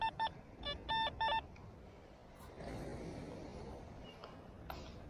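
Tones from an XP Deus 2 metal detector swept over an aluminum cap on a Fort Lauderdale beach: several short clipped beeps in quick succession, then softer faint tones over a background of wind or surf.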